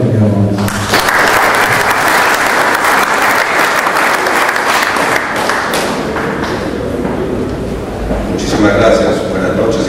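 Audience applause welcoming a speaker at a conference, loud sustained clapping from a sizeable crowd over nearly ten seconds, with a few thumps and a brief voice near the start.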